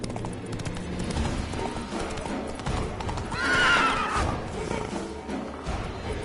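Roach, a horse in The Witcher 3, gallops with rapid rhythmic hoofbeats and gives a loud whinny midway, over steady game ambience.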